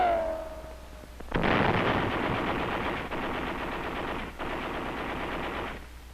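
Sustained rapid small arms and machine gun fire crackles in 1944 battle footage from Saipan, a dense loud burst lasting several seconds with brief gaps, following a short whine at the start.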